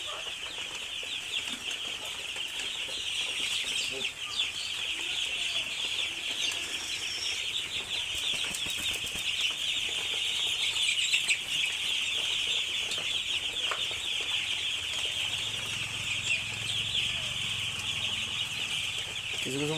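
Young chicks in a poultry shed keep up a constant chorus of high peeping and clucking, dense and steady, with occasional wing flutters under the calls.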